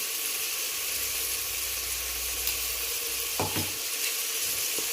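Peas pulao ingredients sauté in ghee with a dense, even hiss of frying, broken near the end by a couple of quick spoon knocks against the pan.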